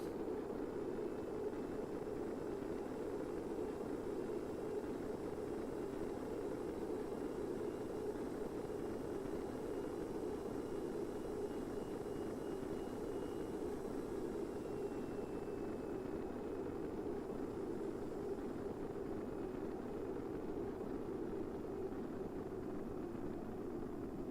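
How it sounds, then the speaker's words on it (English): Jet engines of a spaceplane in Kerbal Space Program during flight, a constant broadband roar with a steady low hum and a faint high whine, unchanging and alone throughout. "I hear jet engines on."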